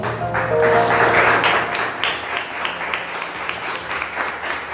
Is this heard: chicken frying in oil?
no